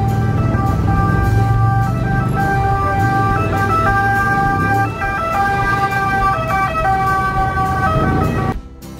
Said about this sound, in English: Just listen to how loud the police and ambulances are.